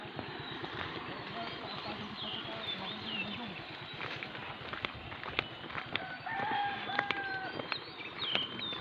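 A rooster crows and chickens cluck in a busy outdoor rural scene near a river in the Philippines, with scattered voices and background noise around them.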